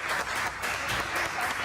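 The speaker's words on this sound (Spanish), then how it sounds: "Chicos, les pido un aplauso para Isabel y Roberto." Staff in a TV news studio applauding two doctors: a continuous wash of many hands clapping at moderate level, with faint voices mixed in.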